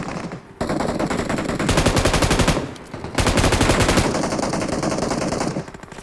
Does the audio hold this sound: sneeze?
no